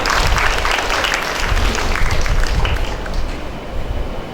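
A lecture audience bursts into dense, sustained applause, loud and steady, fading slightly toward the end.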